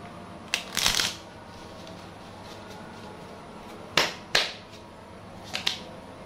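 Playing cards riffled and shuffled during a tarot-style reading, a burst near the start and several sharp crisp snaps later, close and fairly quiet, with no talk.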